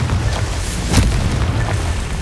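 A Confringo fire spell goes off in Hogwarts Legacy, a loud booming explosion burst about a second in, set against a continuous dense game soundscape.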